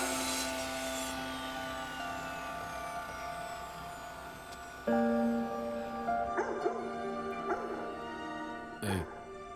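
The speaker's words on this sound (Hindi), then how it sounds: "भौंकना बंद कर।" A dog in a Hindi-dubbed Kannada action movie scene gives short yips and whimpering bow-wows over a sustained musical drone, fairly quiet in the mix.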